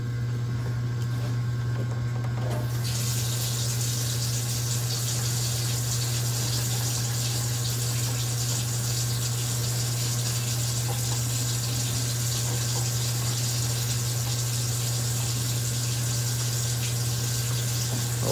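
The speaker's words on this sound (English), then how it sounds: "We'll fill the sink a little bit and see what happens if I let the plug down." Water runs steadily from a faucet into a bathroom or kitchen sink during a plumbing repair, with a constant close rushing flow and a low steady hum beneath, lasting throughout and with no speech.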